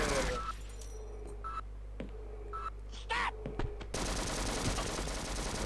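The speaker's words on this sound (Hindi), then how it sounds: "मशीन गन बिछा के रखा है।" Sharp gunfire bursts and single shots in the Half-Life video game, a few spaced cracks followed by a denser rattle of machine gun fire near the end over a low electronic hum.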